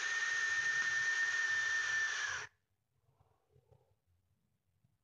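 A loud, steady high-pitched whistle with airy hiss from the airflow of a Digiflavor Themis vape runs for about two and a half seconds, then cuts off abruptly into near silence with faint low rumbling.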